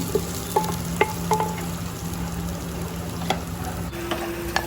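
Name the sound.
bitter gourds (karela) frying in oil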